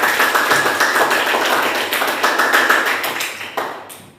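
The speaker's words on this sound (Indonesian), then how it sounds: "Beri tepuk tangan kepada Mega dulu ya" A classroom audience claps for a student, a steady patter of hand claps that holds for several seconds and then tapers off toward the end.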